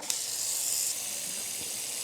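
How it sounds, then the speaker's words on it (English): Tap water pours into a cooking pot, a close hissing rush that starts abruptly, briefly brightens, then settles into a steady softer stream. "let's fill our pot with water"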